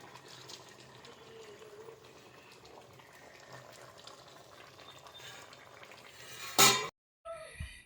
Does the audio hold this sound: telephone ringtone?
no